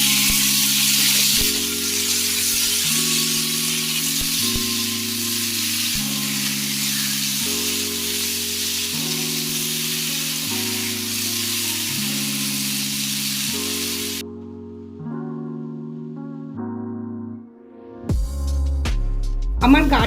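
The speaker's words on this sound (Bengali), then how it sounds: "আমি এখানে গাঠি কচু সেদ্ধ করা আর আলু সেদ্ধ করা এই দুটোকে ভালো করে ভেজে নেব।" Boiled gathi kochu taro and potatoes fry in hot oil in a pan with a steady, hissing sizzle. Background music plays over it, and the sizzle cuts off near the end, leaving only the music.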